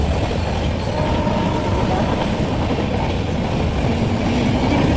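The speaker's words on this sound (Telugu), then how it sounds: "ట్రైన్ వస్తుంది చూడు" A train rolling past close by near a railway crossing gate in Hyderabad, a loud, dense, steady rumble with clattering wheels that lasts the whole stretch.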